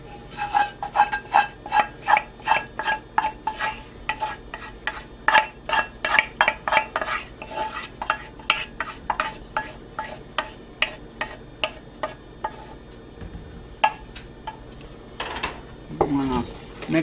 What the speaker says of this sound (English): I'm going to mix that in really well.